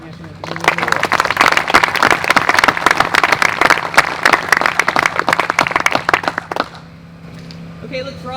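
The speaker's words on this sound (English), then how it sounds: "how about a round of applause for that version of our national anthem" An audience at an outdoor Army sustainment brigade change of command ceremony applauds loudly and steadily for several seconds with dense, crackling clapping, then the applause cuts off abruptly and faint background sound remains.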